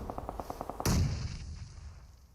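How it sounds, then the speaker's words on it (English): A grenade blast in the mobile battle royale PUBG Mobile erupts loudly after a run of quick evenly spaced gunshot-like pops, its boom decaying over the next second and a half with no voices. "We've got those nades now flying up straight towards him."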